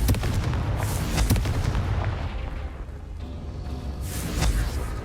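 Confringo fire spell from the video game Hogwarts Legacy, booming blasts with sharp cracks in the first second and again near the end, over a low rumbling background.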